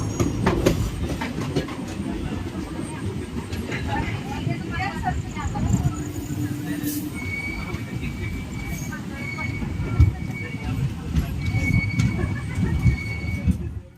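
The Andaman Express rolls along the rails with a steady low rumble and rhythmic clickety-clack of wagon wheels, occasional squeals and clunks riding over a continuous close-up roar, with someone talking faintly beneath it.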